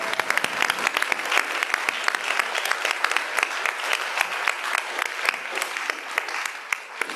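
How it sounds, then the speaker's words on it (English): A large audience at a school district board of education meeting applauds steadily, a dense wash of many hands clapping at an even level throughout, with no voices standing out. "Another round of applause."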